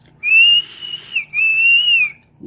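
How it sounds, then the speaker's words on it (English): Two sustained high-pitched whistles from a vape atomizer's wide-open airflow holes, each lasting about a second with a brief gap between them, clear and alone, followed by a soft breathy sound. "with all these airflow holes wide open, it kind of does whistle"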